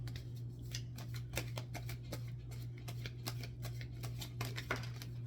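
Tarot cards are shuffled and riffled in a steady run of crisp, close flicks and slaps, repeated quickly over a constant low hum, with no talking.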